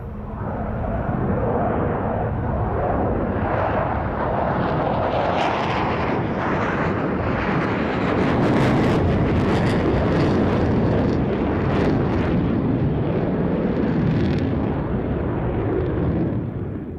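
Delta-wing fly-by-wire jet performing a highly manoeuvrable flying display at the Royal International Air Tattoo, RAF Fairford, 2005; a loud, steady jet roar swells and rushes throughout, peaking midway with rumbling, crackling engine noise.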